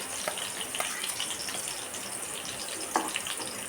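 Finely chopped green chili and onion fry in a pan with a steady hiss and sizzle, broken by a few brief clinks and stirring scrapes, close and even throughout.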